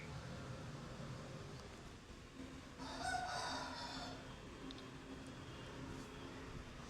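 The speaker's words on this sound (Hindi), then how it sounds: "मुर्गे बोल रहे हैं।" Roosters crowing at a distance through a steady outdoor hiss, one call rising clearly in the middle while other faint calls trail off around it.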